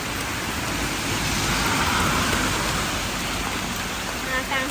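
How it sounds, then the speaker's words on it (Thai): Heavy rain pours down outdoors during a mushroom-foraging outing, a loud, dense, unbroken roar of rainfall that holds steady throughout. "ฝนมันตกแรงตกแรงขนาดจ้า"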